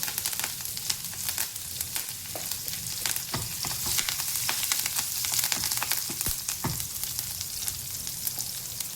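Green chili and curry leaves drop into hot oil with cumin in a pan for a Konkani jackfruit vegetable dish, giving a steady, close, crackling sizzle with sharp pops throughout and no voices.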